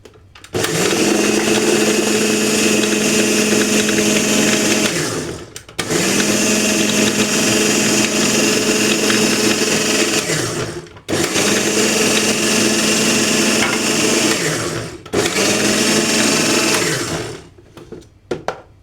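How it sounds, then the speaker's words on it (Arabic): Electric mixer beating orange sponge cake batter with eggs, a loud steady whirring drone in four long runs separated by brief stops. "دلوقتي بعد ما خلطنا تاني كوباية هننزل بالبيض وهنرجع نخلطهم تاني"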